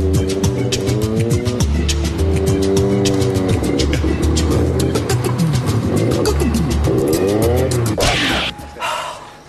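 A car at a scrapyard revs loudly and pulls away, its engine note climbing in several steady surges close by before the sound breaks off into a brief rustle.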